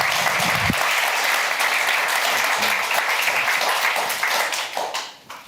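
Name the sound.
applause for Professor Simon Schama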